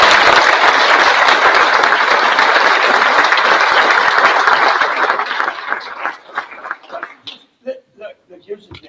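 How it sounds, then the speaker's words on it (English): An indoor audience at a governor's event honoring a woman gives a loud, sustained round of applause that gradually thins into scattered claps, with voices audible as it fades. "How about a round of applause"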